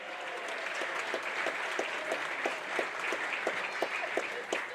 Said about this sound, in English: Well, let's applaud him anyway.